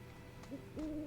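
An owl hoots in the Final Fantasy 7 Rebirth video game. A short hoot is followed by a longer, clearer one, both fairly faint against a quiet ambient background with no speech.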